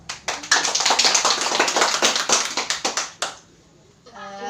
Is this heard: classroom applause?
yes